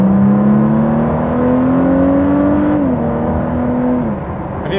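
Engine and exhaust of a left-hand drive car at operating temperature while driving, a steady loud drone with rising pitch that drops near the end as the driver shifts, continuous throughout without talk.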